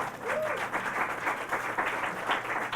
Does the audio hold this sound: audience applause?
yes